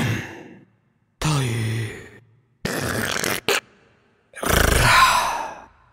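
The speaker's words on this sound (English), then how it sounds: "an instrument with breaths and whispers" Sampled vocal instrument from the Secunda library by Wavelet Audio, built from breaths and whispers: several separate breathy, airy phrases with sighing, whispered texture, divided by short silences, close and fairly loud.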